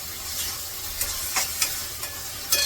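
Onion, chilli and tomato frying in oil in a kadhai for pav bhaji, a steady close sizzle with a few brief scraping stirs of the spoon and no talking.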